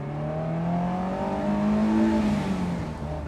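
A Honda S2000 sports car engine in Gran Turismo 7 revs up smoothly and then eases off, its exhaust note rising in pitch and falling back over a few seconds.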